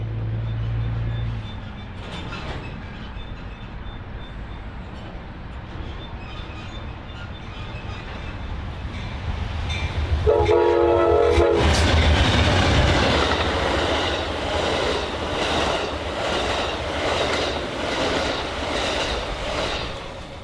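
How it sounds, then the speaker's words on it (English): Westbound California Zephyr passenger train passing on track two of a busy BNSF triple-track main line: quiet at first, then a sudden loud, close roar of rolling cars with a brief horn-like tone, holding steady to the end. "the day's westbound edition of the California Zephyr came by on track two"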